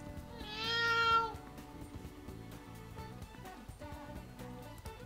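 A cat in the Persona 5 video game gives a single clear meow early on, set over quiet, steady game background music.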